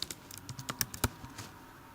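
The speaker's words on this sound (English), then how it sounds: "So let me erase that and type it all in again." A computer keyboard clatters as code is typed: irregular close-up keystrokes in quick clusters and short pauses, with no voices.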